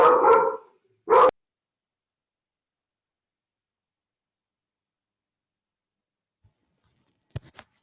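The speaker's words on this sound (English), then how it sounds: "They're big dogs." Big dogs give two barks close together near the start, then long silence with a faint sound and a brief bark or knock near the end.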